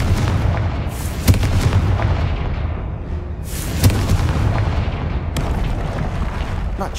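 Booming blasts of the Confringo fire spell in the Hogwarts Legacy video game, a loud rumbling explosion that swells and decays, with sharper bursts recurring every couple of seconds.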